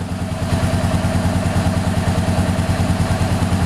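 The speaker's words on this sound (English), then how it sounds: "I turned the engine on because I didn't want to run the battery down" A Honda CBR500R motorcycle engine idles steadily close by, a loud, even rhythmic thrum with a rough mechanical texture and no voices.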